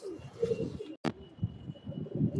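A female domestic pigeon coos in low, throaty rolling bursts, close and fairly loud, broken by one sharp click, with no one speaking.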